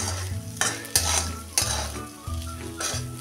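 Chilli powder frying while sabudana khichdi is being made, a steady sizzle broken by several sharp stirring scrapes at irregular intervals, close and fairly loud with no talk.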